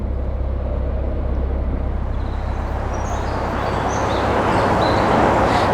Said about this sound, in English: traffic noise plays its part, and at peak time traffic round Worsley is an absolute nightmare